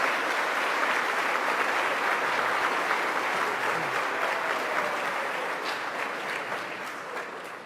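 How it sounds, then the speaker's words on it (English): A large audience at a New York governor's state budget event applauds steadily, a broad wash of clapping that holds and then slowly tapers off toward the end. "Let's give a round of applause for all of them."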